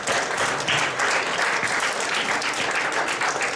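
An audience at a general conference session on interculturality breaks into steady, dense applause, a continuous close wash of clapping hands with no speech over it.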